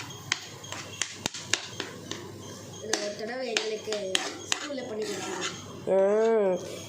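A metal spoon scrapes and clinks against a frying pan in scattered taps while a voice talks quietly in the background.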